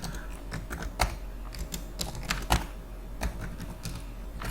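Typing on a computer keyboard while entering Excel spreadsheet data, with a steady run of close, crisp key clicks and a few louder strikes scattered through.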